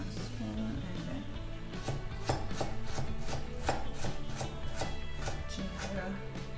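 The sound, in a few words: cutting ingredients for a herbal eye drop paste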